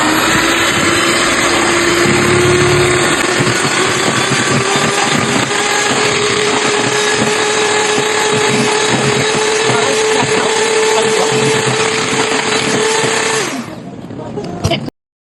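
Condensed milk bread ingredients churned by a steady, loud electric mixer motor that runs evenly throughout, with a constant whine, then cuts off abruptly near the end.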